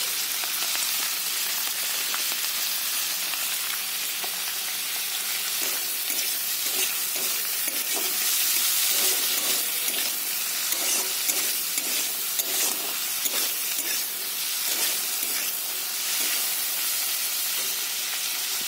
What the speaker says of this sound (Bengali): এদিকে পেঁয়াজগুলো ভাজা হয়ে গেছে